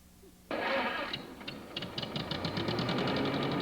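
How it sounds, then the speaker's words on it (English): An old truck engine starts up abruptly and runs with a loud, rough rattling clatter and rhythmic knocking, steady and close, heard alone. "What is that incredible noise? It looks like an old truck."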